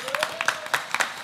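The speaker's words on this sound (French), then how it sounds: "On peut vous applaudir bien fort." Sparse clapping from a dinner-show audience at a casino restaurant, a few scattered claps with a faint tonal sound beneath, fairly quiet and brief.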